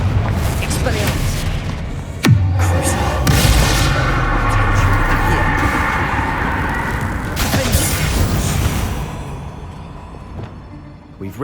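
A Confringo explosion spell cast in Hogwarts Legacy, heavy booming blasts over continuous loud battle noise, with a voice shouting over the din throughout.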